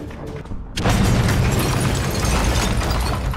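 A Russian T-90 tank fires a 125 mm shell: after a brief quiet stretch, a sudden loud boom bursts out and rolls on as a dense, heavy roar that holds to the end.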